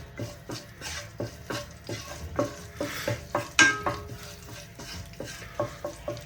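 Curry leaves, green chilli and ginger stirred in a hot pan for a chicken sausage curry, giving a soft sizzle with repeated spoon scrapes against the pan at a steady rhythm, close and fairly quiet, no talking.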